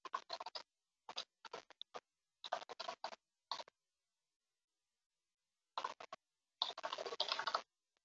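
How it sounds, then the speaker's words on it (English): Fingers type an email address on a computer keyboard in quick bursts of light key clicks, separated by short pauses and one longer gap, faint and close with no talking. "I'm going to type in my email address."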